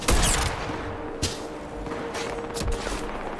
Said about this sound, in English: Why is he shooting me though?